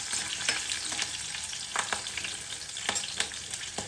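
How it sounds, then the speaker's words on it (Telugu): Chilies frying in hot oil for a fenugreek dish give a steady close sizzle and crackle, broken by several sharp pops and spatters, with no voices. "ఇంకా నూనెలో మంచిగా ఫ్రై చేస్తాం కదా"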